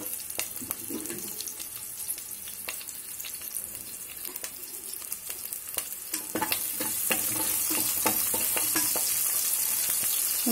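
Onions frying in hot oil with tempering spices, crackling sizzle with scattered spatula clicks that swells into a louder, steady hiss in the second half, close by.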